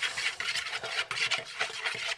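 A spoon stirs pancake batter of flour and milk in a bowl, giving steady rhythmic scraping and swishing strokes, fairly quiet and close with no talking.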